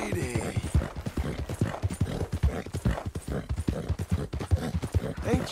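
Steady clip-clop of horse hooves on hard ground in the video game Red Dead Redemption 2, close and rhythmic, with a brief whinny-like sound near the end.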